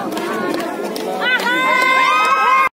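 A packed crowd of tourists mills about at the Tiger Hill sunrise viewpoint in Darjeeling, a steady close murmur of many voices with children's shrill calls and shouts rising over it toward the end.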